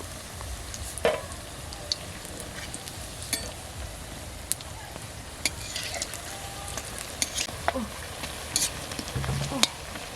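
Mustard flower fritters frying in hot oil in a village kitchen, a steady soft sizzle with scattered crackles and occasional faint stirring clinks throughout.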